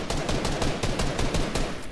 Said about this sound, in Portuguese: Mas ele deu o quê? Um tiro de shotgun?